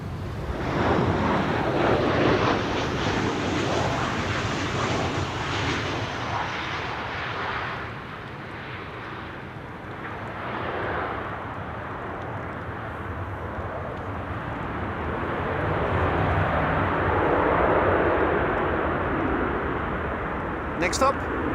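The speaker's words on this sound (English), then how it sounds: "El Al flight 337 arriving from Tel Aviv" A passenger airliner, El Al flight 337 from Tel Aviv, arrives at Amsterdam Schiphol, its broad engine roar building and fading over about twenty seconds with wind buffeting the microphone, steady and fairly loud.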